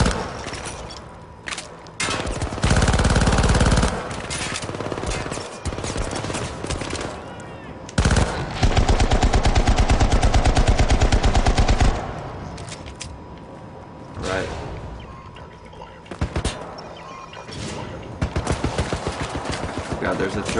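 Turret gunfire in the video game Syndicate: long, loud bursts of rapid automatic fire separated by single shots and brief pauses, with a voice speaking in places over the gameplay.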